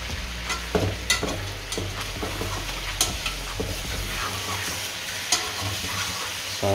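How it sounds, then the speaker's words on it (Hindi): White chicken karahi is stirred in a sizzling pan, with a steady fry hiss under repeated scraping strokes of a spoon, close and clear. "साथ साथ इसको आपने हिलाते रहना है ताकि ये जले नहीं।"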